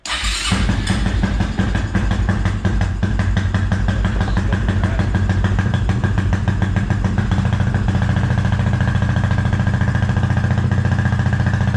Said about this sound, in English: Let's see if you'll start up again. You shut the choke off.